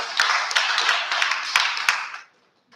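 An audience claps for performers at a university event, a dense burst of many hands with sharp individual claps for about two seconds, then stopping abruptly into silence.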